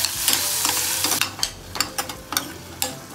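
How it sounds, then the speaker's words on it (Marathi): Tempering spices sizzle in hot oil, a broad frying hiss at first followed by a run of sharp crackles and spatula scrapes, close and fairly loud, with no voices. "तर मस्त आता इथे फोडणी होते आपली"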